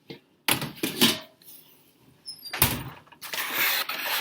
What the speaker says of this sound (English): let's see what we've got coming out of the oven